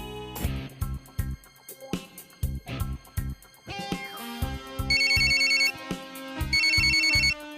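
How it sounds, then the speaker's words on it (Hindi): A phone ringtone plays a bright, repeating electronic melody over steady low beats, loud and close, with no voices. "एक्सक्यूज मी, यादव सर का फोन"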